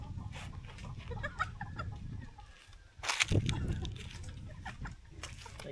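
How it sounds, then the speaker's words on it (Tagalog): Chickens cluck nearby amid outdoor campsite bustle and rustling, with a brief louder burst of flapping and squawking partway through as a chicken is chased. "Ay, tinan mo, hinabol yung manok."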